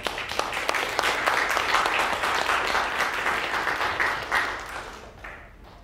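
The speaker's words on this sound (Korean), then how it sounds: "우리 박수로 환영하겠습니다" Sustained applause from a church congregation at a tenth-anniversary thanksgiving service, welcoming a pastor to the front; dense, steady clapping that fades out near the end.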